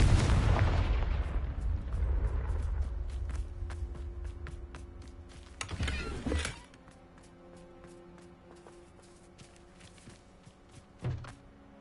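A Confringo blasting spell in Hogwarts Legacy erupts as a loud, close burst with crackling decay, followed by a second sharp blast around six seconds and a smaller pop near the end over quiet game ambience.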